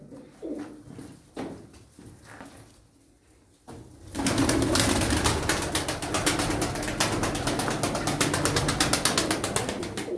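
Pigeons coo softly at first amid light fluttering, then a burst of rapid wing flapping takes over, loud, continuous and close for the rest of the time.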